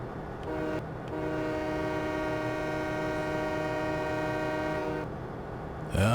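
A video game train rolls into a station: a steady, close rumble runs throughout beneath a sustained horn-like tone, fading near the end with no voices.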